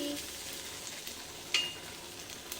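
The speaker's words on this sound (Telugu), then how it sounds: "కొద్దిగా గరం మసాలా చల్లుకొని బాగా కలుపుకొని ఫ్రై చేసుకుంటే బెండకాయ ఫ్రై రెడీ" Okra fries in a pan with a sprinkle of garam masala, a soft constant sizzle under light stirring scrapes and one sharp utensil clink near the middle.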